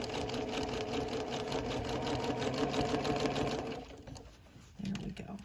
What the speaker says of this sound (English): I can stitch for a little bit longer before I pick it up and have to move.